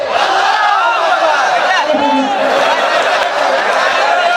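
A large rally crowd in Sirajganj, gathered for a singer, roars continuously and loudly in unison throughout, a dense wall of massed voices with shouting and some laughter mixed in.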